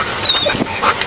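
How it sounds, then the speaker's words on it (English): A police dog whimpers and yips in short, high-pitched bursts close by during a roadside traffic stop, with faint background noise. "They got a dog."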